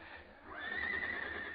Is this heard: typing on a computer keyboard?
no